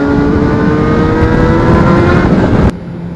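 A fast motorcycle engine pulls hard and loud under acceleration while riding, with a rising drone that cuts off sharply into a quieter idle near the end.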